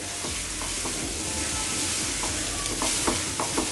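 Rice and lentils sizzle and crackle in hot oil with crushed ginger and whole garlic, a steady close frying hiss with occasional stirring scrapes.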